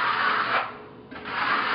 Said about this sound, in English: You just load your trowel up and work it out.